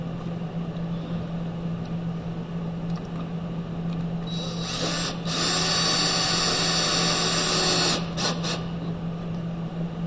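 A power screwdriver drives torque screws into plastic tabs of a home circuit project kit, a steady whirring burst of a few seconds with brief stops near the end, over a constant low electrical hum.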